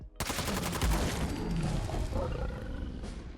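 A New Vegas light machine gun fires in Fallout 4 at a Deathclaw, a loud, rapid stream of shots that starts abruptly and blends with a roaring creature over the whole stretch.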